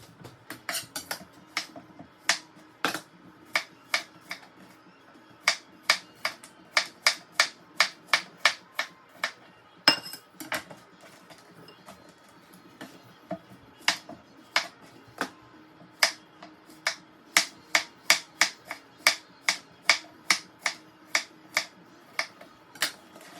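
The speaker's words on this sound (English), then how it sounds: "I have about 6 dozen pickles to slice, so this is going to take me a while" A knife slicing through a large batch of pickles on a cutting board, sharp crisp chops in quick irregular runs with short pauses between them, close and clear with no talking.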